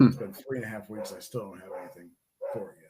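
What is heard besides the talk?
dogs barking in the background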